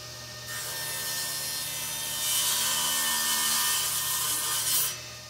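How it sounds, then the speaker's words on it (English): A table saw with a thin blade cuts wood blocks for an end-grain backsplash, giving a close, steady whining hum that rises into a louder, harsher rasp of the cut for a few seconds before dropping off. "I'm marking that right on my table saw so I can use that as a guide as I push the wood through"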